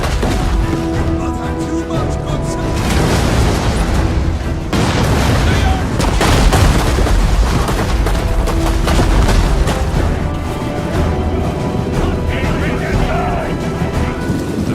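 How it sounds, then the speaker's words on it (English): Burgundian cannons firing at a Swiss-defended wall in a Total War battle, repeated loud booms and crashes over busy battle din, with a narrating voice partly over it. "the Burgundian cannons tore down a section of the wall"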